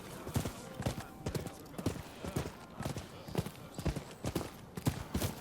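Steady clip-clop of horse hooves on a hard surface in Rise of the Ronin, a brisk repeating rhythm close by, with faint game ambience and occasional speech underneath.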